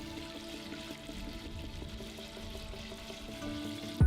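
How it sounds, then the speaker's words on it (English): Chicken frying in hot oil over an open fire, a faint steady bubbling sizzle that holds evenly throughout, with a brief louder knock right at the end. "Slowly place the chicken in the oil."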